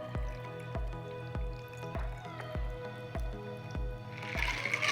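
Watermelon margarita poured over ice into a glass, heard as a series of regular dripping, splashing pulses with bright liquid tones, fairly quiet and close, ending in a brief hissy fizz.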